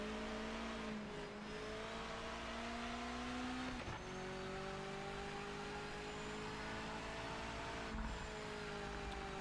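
A damaged race car engine in the Project Motor Racing game whines under load and keeps shifting through gears, a continuous, fairly faint drone with brief dips between shifts.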